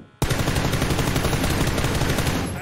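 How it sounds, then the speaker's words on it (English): Video game gunfire starts abruptly after a short quiet moment, then a dense, loud, rapid stream of shots continues steadily, close and unbroken, easing slightly at the end. "I shot him once."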